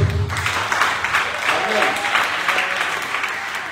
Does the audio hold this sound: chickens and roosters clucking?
no